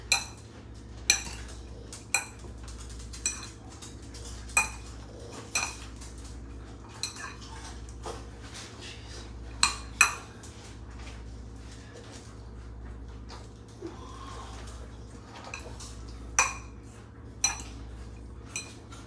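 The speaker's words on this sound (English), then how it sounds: "we got to mix this up a little bit. Let's get ourselves a fork." A fork scrapes and clinks against a dish while mixing rice, boiled egg and tuna, sharp metallic taps recurring every second or so over a low steady background hum.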